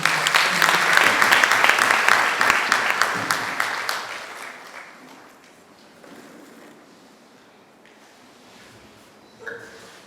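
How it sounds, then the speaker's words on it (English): Hand clapping from an audience at a female student leaders' conference, loud and dense for about four seconds, then fading to a quiet murmur of the room with a brief late burst. "I don't think that hand clap was enough."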